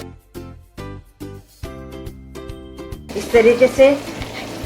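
Creamy full-fat curd is stirred into smoky chicken frying in a pan, giving soft sizzling and stirring scrapes that rise near the end, following spaced clinks, with someone briefly speaking.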